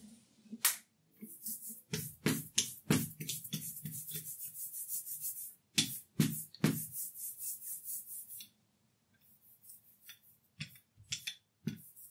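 Rag rubbing over an inked lino print block, a run of short dry scrubbing strokes in quick bursts with brief pauses and a quieter sparse stretch near the end, close and clear with no talk.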